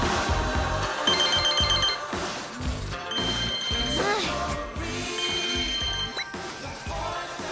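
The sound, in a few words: telephone ringing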